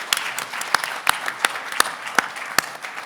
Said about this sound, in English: Let's give them a loud round of applause that they can hear.